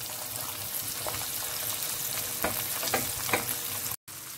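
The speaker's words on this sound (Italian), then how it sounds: "Guardate come friggono, appena diventano rossi poi si tolgono." Shrimp frying in a pan for a tamarind dish, with a dense steady sizzle and scattered crackles and pops, close and continuous, with no talking.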